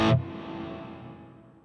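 Electric guitar played through a Line 6 Helix LT with distortion and reverb placed after the amp: a single sharp distorted strum that cuts off and leaves a smooth reverb tail fading away.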